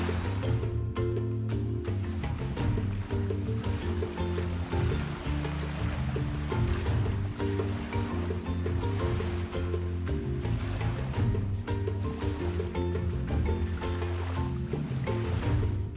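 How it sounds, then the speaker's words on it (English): Waves lap and wash on Lake Victoria at Entebbe, where fishing boats bob: a continuous watery splashing and churning that stays fairly close and even in level throughout. "fishing boats painted in bright colors bob on the waves"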